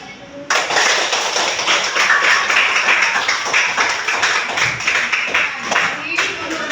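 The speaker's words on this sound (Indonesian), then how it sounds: "Kalau menyenangkan, tepuk tangannya dulu." Children in a classroom clap their hands together in a dense, steady burst of applause that starts abruptly and continues loud and close throughout.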